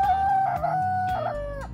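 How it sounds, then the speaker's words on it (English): A single loud rooster crow sound effect played from an Amazon Echo speaker, drawn out with a rising then falling call, close and clear with no talking. "I play the rooster sound."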